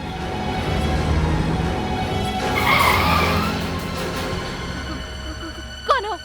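A car drives at speed in a crime drama scene, its steady engine rumble swelling into a tire skid near the middle, with a sharp squeal close by near the end and no talking.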